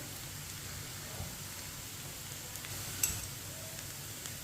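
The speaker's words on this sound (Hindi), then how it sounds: "इसी तरह चम्मच लाते हुए हल्का सा ब्राउन करें" Onions brown in a pan for chana dal as a spoon stirs them. A soft, steady sizzle runs throughout, with occasional faint scrapes and a small clack near the end, close but quiet.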